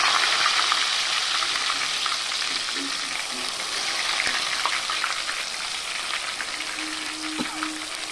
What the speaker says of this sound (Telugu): ఒక ఉల్లిపాయ మిక్సీ పట్టుకున్నాం కదా, అదేవిధంగా పచ్చిమిర్చిని కూడా చీరుకున్నాం కదా, వాటన్నిటిని అయితే ఆయిల్ వేసేస్తామన్నమాట